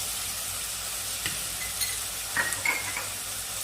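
Garlic paste, cumin and chili powder sizzle softly in a pan for a Bengali pea ghugni, with a steady low frying hiss and a few light scraping stirs and clinks of the spoon toward the end.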